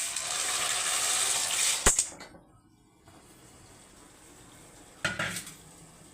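Fried pasta tips into a pot of simmering water for a masala veg pasta, clattering and hissing loudly at first, then a metal clank, a quieter stretch and a short stir with scraping.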